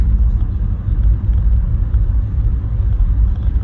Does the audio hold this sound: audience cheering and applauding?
no